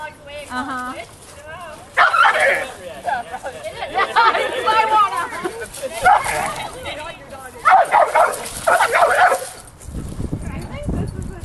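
Several dogs yip, whimper and bark in excited bursts, fairly close, mixed with overlapping human chatter throughout.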